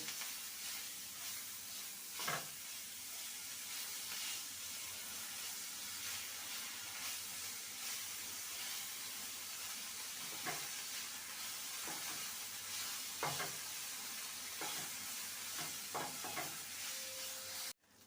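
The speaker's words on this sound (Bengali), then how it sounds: "মশলাটা ভাজা হয়ে গেছে" Spices and coriander leaves fry over a low flame in a pan, giving a steady, soft hiss with a few faint stirring scrapes and clinks, close by with no talking.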